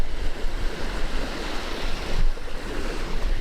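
Lake water on a Michigan shore, waves washing and churning in a steady broadband rush with gusts of wind noise on the microphone, loud and close throughout.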